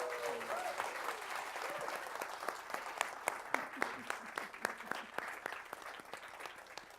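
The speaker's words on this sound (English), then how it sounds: "Let's give Yona and Evan one more round of applause." Audience applause at a bookstore author talk on Black Panther comics, a moderate crowd clapping steadily with distinct individual claps popping through, a voice trailing off at the start.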